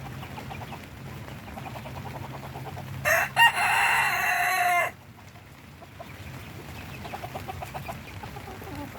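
A rooster in an outdoor pen with a duck and a young bird crows once loudly and nearby, a strained two-second call, while intermittent clucking and soft fowl chatter carry on before and after.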